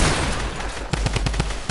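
Pump shotgun fired in a video game shooter, a cluster of rapid sharp blasts close together near the end amid busy game noise.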